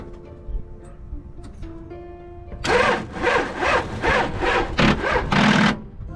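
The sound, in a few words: car starter motor cranking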